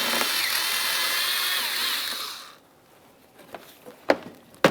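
A power tool backs out a 7mm headed bolt on a 2006-2012 Ford Fusion front bumper cover, whirring loud and steady for about two seconds, then stopping, followed by a few faint clicks and handling knocks nearby.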